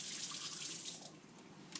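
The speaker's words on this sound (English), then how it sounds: "rinse it with lots of water in the sink and in the test tube" Tap water runs into a sink while a test tube is rinsed, a steady splashing stream that eases off partway through and ends with a brief splash.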